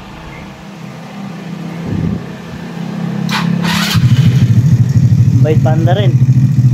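Easyride RS 2 motorcycle fitted with a racing cam and 28mm carb, its engine idling then revving up into a loud, steady throbbing run, with a voice speaking briefly over it.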